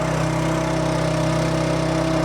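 A tractor engine runs at a steady idle beside a fuel trailer while it is fueled, a loud, even drone with a constant low throb and no pauses.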